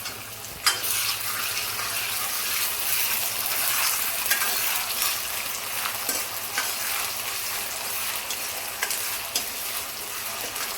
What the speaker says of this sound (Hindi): तो ये प्याज जो है फ्राई हो गई है, तो अब थोड़ा सा इसमें जिंजर गार्लिक का पेस्ट हो डाल दूँ।